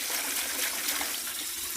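Water swirled around inside a bucket used for tile and mortar work, a brief close sloshing and trickling swish with no talk.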